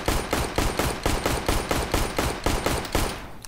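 Counter-Strike Danger Zone gunfire: a loud, sustained burst of rapid automatic shots in a steady rhythm, several per second, emptying a full magazine.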